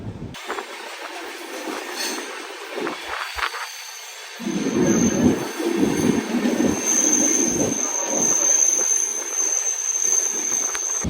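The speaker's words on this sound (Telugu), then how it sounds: "ట్రైన్ క్రూజింగ్ స్పీడ్ అయితే ఇదే." The Navajeevan Express runs at cruising speed near Nizamabad, a loud steady rumble and rattle of carriages with a thin high wheel squeal running throughout.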